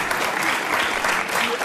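Studio audience of Bill Maher's talk show applauds in a dense, loud, sustained wash of clapping that holds steady throughout, with a faint murmur of voices beneath.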